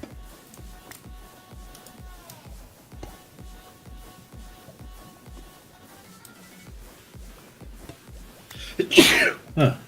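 A single sharp sneeze bursts out near the end, loud and close, after a stretch of rhythmic ticking and soft background music.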